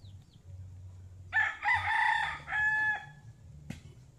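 A rooster crows once, loud and close, in a farmyard before feeding, its drawn-out call followed by a brief trailing note, over faint low background noise and a soft click near the end.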